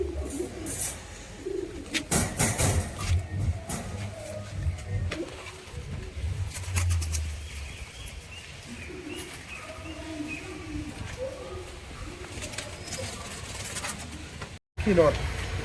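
Giribaz and fantail pigeons coo softly at close range among other chirps and scattered bird calls, with a steady noisy background and bursts of movement.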